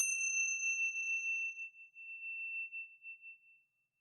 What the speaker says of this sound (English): I'm going to ring the bell to mark the end of the session.